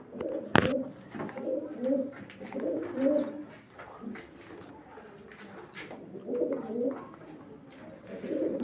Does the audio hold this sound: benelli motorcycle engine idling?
no